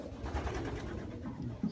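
Pigeons in a loft coo softly and continuously, low throaty murmurs overlapping close by with a steady background hum.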